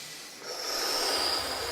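A slow, deep breath drawn in through the nose during a guided breathing exercise, a soft airy hiss swelling up and holding steady close to the listener, with no talking over it.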